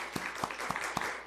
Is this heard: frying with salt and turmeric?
no